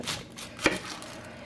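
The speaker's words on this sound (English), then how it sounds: "So just cut some onion." A knife chopping onion on a cutting board, one crisp sharp chop standing out amid quieter light cutting and handling sounds, close and otherwise without talk.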